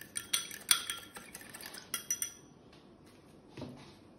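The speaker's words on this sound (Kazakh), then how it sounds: "Енді бір дана жұмыртқаның сарысымен бір қасық, ас қасықпен сүт араластырамыз да бетіне жағамыз." A spoon clinks and scrapes in a bowl while egg yolk is stirred together with a spoonful of milk, a quick run of bright taps and strokes close by that fades to faint stirring, with no talking.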